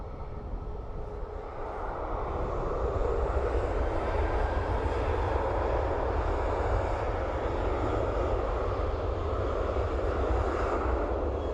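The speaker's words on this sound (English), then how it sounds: "So it's Ryanair 737-800 off to Liverpool." Ryanair Boeing 737-800 jet taking off from Dublin Airport bound for Liverpool, a continuous broad engine roar that swells after the first couple of seconds and holds loud and rumbling throughout.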